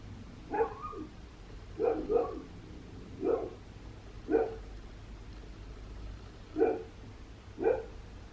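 Dogs barking indoors, six short separate barks spread out at irregular intervals, moderately close but not loud, over a low background hum, with no talking.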